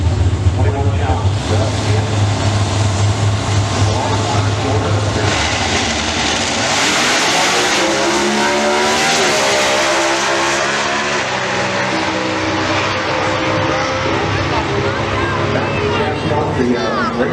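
Factory Stock drag race car at an NHRA national event accelerating hard down the strip, a loud sustained engine roar that rises in pitch over several seconds alongside crowd and announcer chatter.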